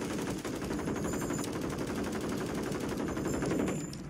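Sustained automatic gunfire rattles in a battle royale video game match, dense rapid bursts loud and continuous throughout, with distant shots layered behind.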